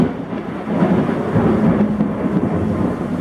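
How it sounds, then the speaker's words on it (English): Thunder rumbles outside during a storm, a low rolling roar that builds and holds steady across a few seconds, with rain hissing faintly underneath. "It's thundering really bad outside right now."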